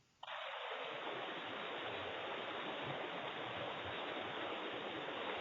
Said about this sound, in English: Oh, the classic waterfall. I love it.